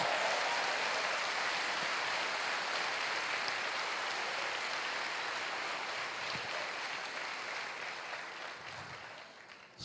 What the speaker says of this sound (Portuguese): Dá uma salva de palmas para o Senhor Deus.